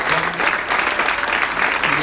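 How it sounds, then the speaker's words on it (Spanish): A church congregation claps during a worship service, a dense burst of handclaps rising and falling in waves over a short stretch, with a faint voice or tone underneath. "Démosle un aplauso a Jesús por la vida de nuestro hermano Alberto."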